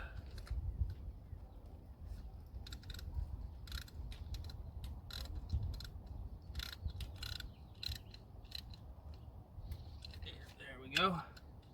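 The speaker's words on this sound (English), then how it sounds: "So I just throw it on my ratchet here and get her did." A hand ratchet turns rusty bolts on the intake of a Mazdaspeed 6, giving a series of quick, faint clicking strokes in a steady rhythm over low background hum, ending with a brief squeak.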